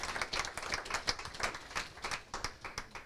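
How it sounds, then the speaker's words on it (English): Applause from a small group at a crypto talk event, distinct close claps with a few individual hands standing out in an uneven rhythm, steady for a few seconds. "Big round of applause for Jack."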